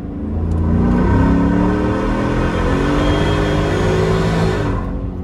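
A Ford F-150 Shelby Super Snake Sport pulls hard in third gear in two-wheel drive, a loud steady engine roar with rising rumble that swells and holds, heard close from inside the truck.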